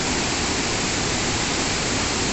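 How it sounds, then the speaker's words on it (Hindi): A river swollen after heavy rain near Dharamshala roars past, a dense, constant wash of rushing water heard close and loud throughout. "नदी का पानी आज पूरे उफान पर है"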